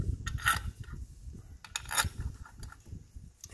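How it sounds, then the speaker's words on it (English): Bolts going back into the oil thermostat cover on a truck engine: scattered metallic clinks and small scrapes, close and fairly quiet, in irregular bursts with soft handling noise between them. "put your bolts back in."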